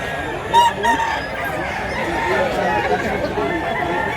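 Rooster crowing at a gamefowl market in Mantalungon, Cebu: one loud crow near the start, with people talking and other fowl clucking throughout.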